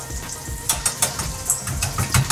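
Bacon sizzles in a pan for carbonara with a soft, steady crackle and small popping bursts, faint and close, over a low background hum.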